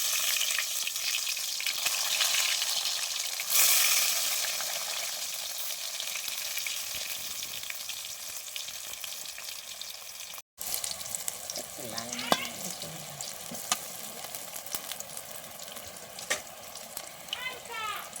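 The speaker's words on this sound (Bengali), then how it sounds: "এবার আমার তেল গরম হয়ে এসেছে, আমি এবার বেগুনটা ভেজে নেব, হালকা ভেজে নেব।" Eggplant slices frying in hot oil for a Bengali begun posto, a steady sizzle with brief clatter and stirring, a short cut midway, then lighter crackling with occasional utensil clinks.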